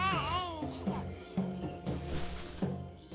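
A baby babbles and coos in a lilting, rising-and-falling voice, close and soft, with short vocal bursts and a gentle tonal quality, set in a children's Jungle Book story.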